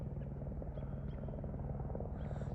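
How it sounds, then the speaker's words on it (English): Helicopter flying nearby on a hiking trail, a low continuous rotor thrum with a pulsing beat, moderately faint and steady, with no talking. "There's a helicopter right there"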